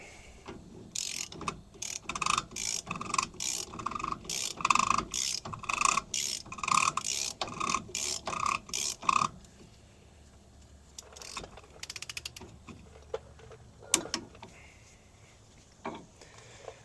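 A ratchet tightens the rear axle nut on a 2005 Ford F250 during a rear seal and bearing job: rapid, close clicking in repeated strokes for about nine seconds, then quiet with a few scattered metallic clinks.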